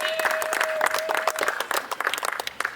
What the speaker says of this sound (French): Applaudissons pour les régimes choisis.